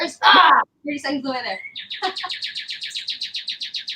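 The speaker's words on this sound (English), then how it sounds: "I'm sorry the birds are so loud." Small birds chirp in a fast, regular series of loud tweets close by outdoors, following someone speaking.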